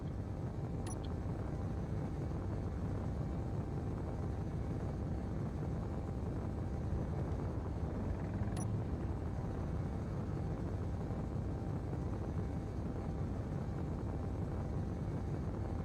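Spacecraft thrusters under thrust override in a salvage survival space game, a steady low rumbling roar that holds unbroken throughout, with two faint brief clicks.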